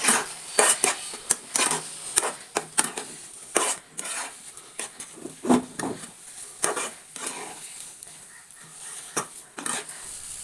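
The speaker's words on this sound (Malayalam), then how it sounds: "ഇനി നമ്മളതൊന്ന് മിക്സ് ചെയ്തെടുക്കാം" Semolina is stirred into boiling water in a pot, producing a series of irregular clinks and scrapes of a utensil against the pot, close and fairly loud, with no talk.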